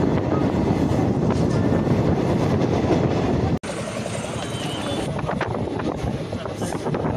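The Koyna Express rumbles and clatters nearby in a loud, continuous roar with wind buffeting the microphone, and someone talks over the noise.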